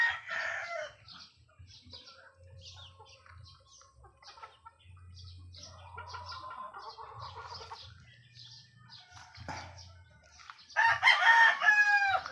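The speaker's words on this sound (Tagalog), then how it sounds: "nakatangkad na manok yan" Chickens cluck and peck around a backyard flock, soft and scattered, with low grunting clucks throughout, before a rooster bursts into a loud, close crow near the end.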